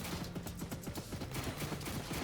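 A cannon fires in the war strategy game Warpips amid a dense, rapid stream of booming gunfire that runs steadily throughout.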